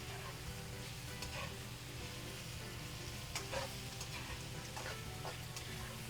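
Beef lo mein being reheated in a hot pan gives a steady, close sizzle of stir-frying, with occasional scrapes and clicks of the utensil running through the whole stretch and no talking.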